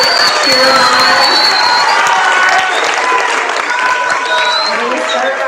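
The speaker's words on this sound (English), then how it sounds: "You guys can applaud for your team, for your classmates, cheer them on." Sixth to eighth grade students at a school spelling bee applaud and cheer for their classmates, a steady wash of clapping with scattered shouts and voices across the whole stretch, loud and close.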